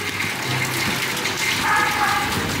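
Heavy rain pours steadily during a move of caged huskies, a dense continuous rushing wash of water close by with no talk.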